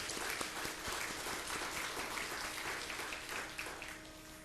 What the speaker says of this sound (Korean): 다시 한번 이분들을 위해서 박수로 이렇게 좀 격려했으면 좋겠습니다